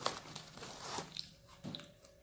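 Close, crisp crunching and chewing of a natural cracker, a few sharp bites followed by softer mastication sounds, alone with no talk.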